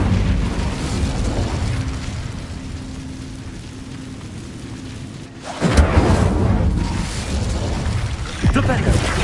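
An Incendio fire spell bursts in the Hogwarts Legacy video game, a sudden loud whooshing blast about midway through, with a second sharper burst near the end over steady game ambience.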